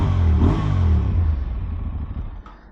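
A 2024 Aprilia Tuareg 660 motorcycle engine with a loud, close induction roar that rises briefly as the rider revs, then eases off into a lower rumble, with no voices.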